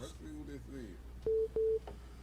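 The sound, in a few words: phone line call coming in, telephone dialing tones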